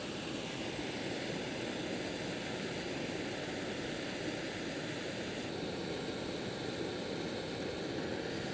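An MSR camping gas stove with an inverted canister burns at full power, giving a loud, steady, close roar that holds unchanged throughout.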